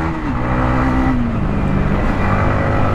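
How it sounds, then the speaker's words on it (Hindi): A Kawasaki Ninja 1000SX motorcycle leaking coolant accelerates hard along a road, its engine droning loud and close with a rising, shifting whine and steady wind rush. "थोड़ा भगाते हैं बाइक को।"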